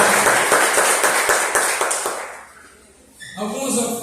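Church congregation applauding with a steady wash of clapping for about two seconds, fading out before a voice takes over.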